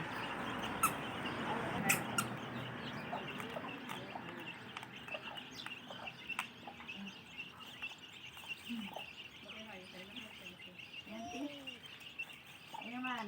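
Chickens cluck and chirp in short bursts at a moderate distance while being fed termites, with faint background noise and occasional voices mixed in.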